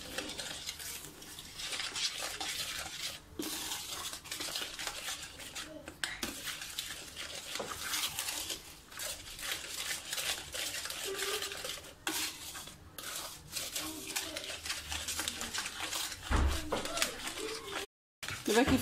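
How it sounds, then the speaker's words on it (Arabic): Crème pâtissière ingredients, eggs and sugar, mixed steadily in a bowl, with continuous whisking and scraping clatter throughout and a voice talking over it. "غادي نخلط كلشي مزيان."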